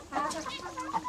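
Chickens on a cage-free poultry farm in Naga City, Cebu, clucking close by in short, quick, overlapping calls, with a faint voice in the background.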